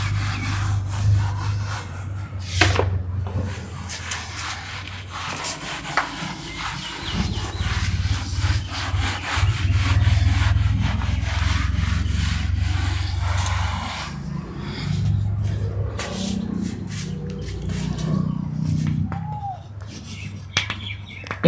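A classroom board is erased with steady back-and-forth rubbing strokes, a loud, scratchy rasp that continues for about twenty seconds, with a low hum beneath and occasional knocks.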